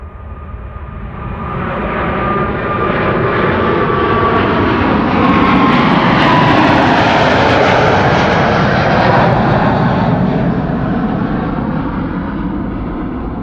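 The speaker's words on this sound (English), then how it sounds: "This is KLM flight 791 to Sao Paulo," KLM Boeing 777-300 jet departing Amsterdam Schiphol, a loud roaring engine rumble that swells as the aircraft passes and then slowly fades, broadband and continuous with no talk.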